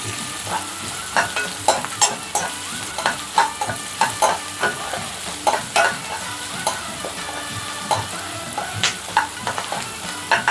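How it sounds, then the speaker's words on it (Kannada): Chopped onions with curry leaves fry in a pan, a continuous sizzle broken by frequent scraping stirs of a spoon against the metal, steady and close throughout. "ಅದಕ್ಕೆ ಕಟ್ ಮಾಡಿಟ್ಟಂಥ ಈರುಳ್ಳಿ ಸೇರಿಸಿ ನೀಟಾಗಿ ಫ್ರೈ ಮಾಡ್ತಾ ಇದ್ದೀನಿ."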